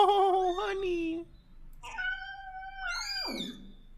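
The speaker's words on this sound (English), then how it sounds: "don't growl at the kitty" A cat meows in drawn-out, wavering cries, first a long harmonic wail and then a second rising, strained call that ends in a rough, growly tail, fairly close and loud with no talk over it.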